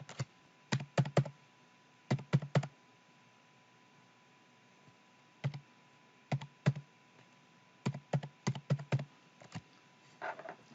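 Keys on a computer keyboard tap out an ID number during exchange account verification: quick, close clusters of crisp keystrokes separated by short pauses, with no voices.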